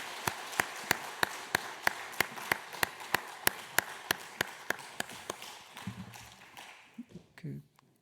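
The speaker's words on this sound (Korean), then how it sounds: "우리 박수로 다시 한번 할 때 자리에 들어가겠습니다" A church congregation claps together to bless the teachers and department leaders during a Sunday worship service, a steady run of sharp, evenly spaced claps that tapers into scattered softer applause and faint room noise.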